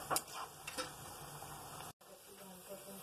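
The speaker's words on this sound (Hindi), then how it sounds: "इसको रंग बदलते तक हम लोग फ्राई करेंगे" Jackfruit kofta frying in hot oil in a kadhai, a steady soft sizzle with a couple of brief stirring clinks near the start, close and fairly quiet.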